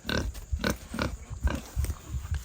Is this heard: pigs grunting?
yes